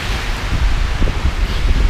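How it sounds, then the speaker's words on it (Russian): Wind blowing snow into a microphone outdoors, a close, loud, continuous low rumble and buffeting with rustling gusts throughout. "Неудобно говорить, когда тебе в лицо дует снег."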